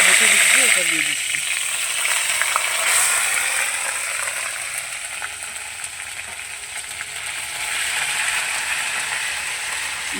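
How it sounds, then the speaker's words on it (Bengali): Ginger and green chili paste frying with spices in a pan for a vegetarian potato curry, a steady close broadband sizzle with occasional stirring scrapes throughout. "মশলার সঙ্গে ভেজে করে নিচ্ছি।"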